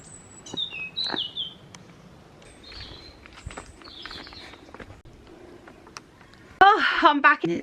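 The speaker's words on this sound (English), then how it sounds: "And the birds singing." Birds chirping and whistling in short bursts at varying distances, some close and bright, others faint, before a person starts talking near the end.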